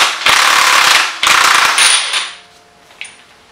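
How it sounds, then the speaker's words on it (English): An impact wrench with a chrome socket hammers loose the sprocket nut on a Yamaha YZF-R1 in two loud, buzzing bursts, then a faint metallic clink as it stops. "Gonna be using our handy impact wrench"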